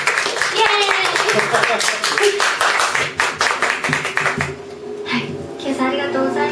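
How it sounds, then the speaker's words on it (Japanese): An audience applauds a pianist named Yui, lively clapping that runs close and loud under cheerful talking voices. "ピアニストゆいでしたに拍手を送ります"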